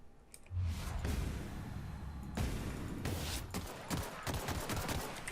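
Gunfire in the video game The Outer Worlds, a sustained burst of rapid shots followed by further quick volleys and clicks, close and fairly loud with no speech over it.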